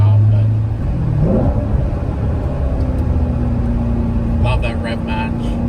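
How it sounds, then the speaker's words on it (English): A Chevrolet Corvette C7 on a rally drive slows down with a rev-matched downshift, a close engine rumble with a brief rising blip as the revs climb, heard with road noise while someone talks. "love that rev match."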